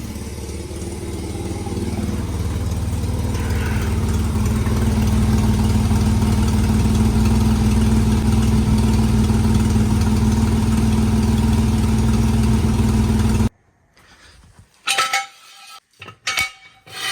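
A 1984 Holden VK Vacationer wagon engine idles with a steady low hum for about thirteen seconds, then stops, followed by a few scattered metallic clanks.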